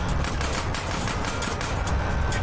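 Gunfire in GTA San Andreas Definitive Edition, a steady run of rapid, dense shots over the sound of a moving train, loud and continuous with no talking.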